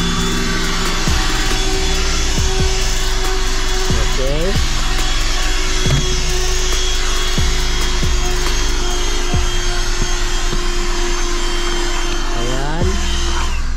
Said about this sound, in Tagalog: Kaya dito lang yung i-vacuum natin.